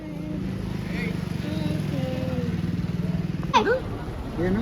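A motorcycle engine idles nearby with a steady, low pulsing throb, while a voice cuts in near the end.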